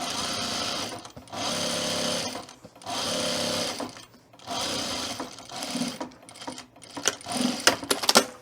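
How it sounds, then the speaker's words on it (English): A sewing machine top-stitching the pressed casing of a fabric split tool belt, running in several loud bursts of a few seconds each separated by short pauses, with a brief softer stretch of handling near the end. "I'm gonna press the casing down and I'm gonna top stitch it"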